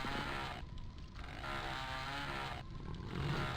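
A buzzing, revving chainsaw drone from an ogre attacking in Quake, sustained and loud with a gritty motor texture, dipping briefly twice as it rises and falls.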